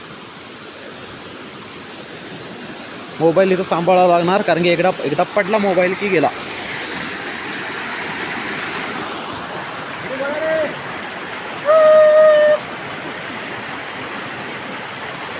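A large waterfall pours beneath a small bridge in Chandgad, making a steady, even roar throughout, with someone talking over it in two short bursts.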